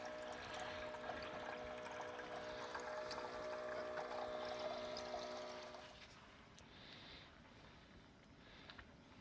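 A water tap at a campground pours a steady, fairly loud stream for about six seconds, then shuts off, leaving quieter background sounds with a few light clinks.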